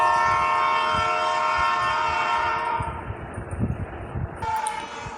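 A Sealdah–Naihati local train departs a station platform, a loud sustained horn with strong harmonics blaring for about three seconds over rumbling railcars, then fading as the train rolls away, wheels and carriage clatter continuing.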